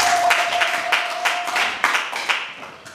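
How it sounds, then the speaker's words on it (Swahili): A church congregation claps for Jesus, with steady rhythmic hand clapping in repeated bursts and a faint sustained tone running underneath. "umpigie Yesu makofi"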